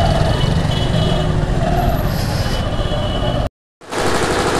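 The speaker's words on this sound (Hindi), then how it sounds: "इग्नोर करिए जनरेटर की आवाज़" A generator runs steadily outside a collectorate office, a loud continuous mechanical drone with broadband rumble that cuts out abruptly near the end, then resumes.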